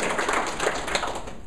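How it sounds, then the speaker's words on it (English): An audience in a team meeting bursts into sustained applause, a dense, even wash of many hands clapping that holds steady throughout without pause. "give this young lady a round of applause"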